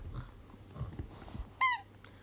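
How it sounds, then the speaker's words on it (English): A squeaky dog toy lets out one sharp, loud, high squeak near the end, after soft rustling and low thumps as the dog handles it. "Oh, you brought me the squeaky toy."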